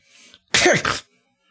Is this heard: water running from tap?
no